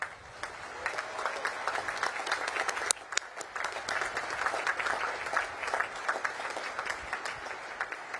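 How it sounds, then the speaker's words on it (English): A large crowd at a Naval Academy commencement and commissioning ceremony gives sustained applause. The clapping stays dense and continuous for about eight seconds, with a brief louder swell near the middle and no talking on top. "please join me in giving them a heartfelt round of applause"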